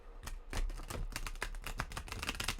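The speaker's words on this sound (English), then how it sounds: "Oh yeah, that's a good shuffle right there." A tarot card deck is shuffled close by, with rapid, crisp clicks and riffling flutters of cards in an uneven stream, fairly quiet and without talk.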